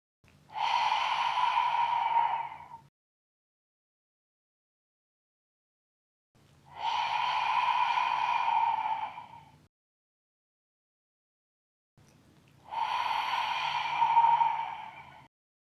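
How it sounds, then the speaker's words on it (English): Three long, forceful open-mouthed exhalations with the tongue out, a breathy ha for lion's breath in a yoga practice, each about two to three seconds and separated by silence. "We'll begin with that lion's breath, so we'll drop the belly, extend the tongue out of the mouth, make a ha sound while looking up."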